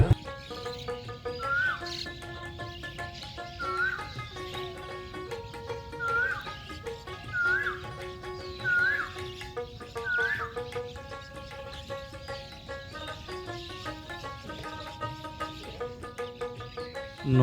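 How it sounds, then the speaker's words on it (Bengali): Native birds nesting in large riverside trees chirp and tweet in short, scattered calls over a steady background, fairly close and moderately loud throughout. "এখানকার গাছের ডালে বসা পাখির কিচিরমিচির শব্দ"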